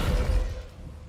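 Descendo spell slam in Hogwarts Legacy, one heavy low thud that hits loud at once and fades into a short rumble within about a second.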